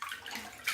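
Warm water pours into a bathtub with a steady, close hiss and splash, brief and unbroken.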